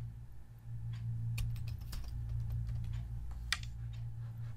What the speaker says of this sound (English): I'm just going to type certificate of appreciation.